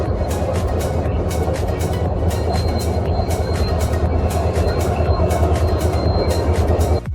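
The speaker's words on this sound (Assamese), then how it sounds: "আপোনালোকক আজি অলপ কাষৰ পৰাই ৰেল দেখুৱাইছোঁ" A passing train at Mirza railway station rumbles loudly and steadily from close by, its wheels beating a rapid clickety-clack rhythm over the rails with no voices over it.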